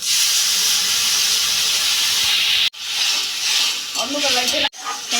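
Paste of gandha bhadali leaves goes into a raw banana curry frying in a pan, giving a loud, steady sizzle and steamy hiss with stirring; the sound cuts briefly twice, and a voice speaks faintly near the end.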